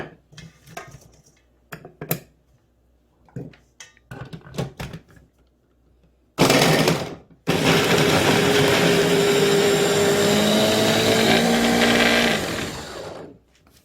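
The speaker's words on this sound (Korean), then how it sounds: "저는 믹서기에 갈아서 청을 담가 보도록 하겠습니다." A kitchen blender grinds whole unpeeled ginger root for making ginger syrup, starting after a few light knocks and then roaring loud and steady for about seven seconds with a brief pause near the start.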